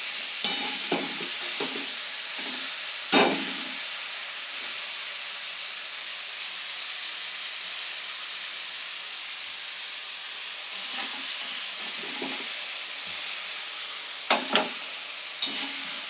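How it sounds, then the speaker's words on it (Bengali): Chicken fries in a pan for homemade chilli chicken, with a steady low sizzle and hiss and occasional stirring scrapes and spatula knocks, clustered early and again toward the end. "ভাজতে হবে যতক্ষণ একটু নরম হচ্ছে। নাড়তে হবে, তলা উপর করতে হবে।"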